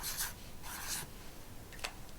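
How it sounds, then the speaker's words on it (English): A pen scratches on a playing card during a close-up magic trick, giving three short rubbing strokes that are quiet and close, with no talk. "Now I'm going to write it on here so I don't forget."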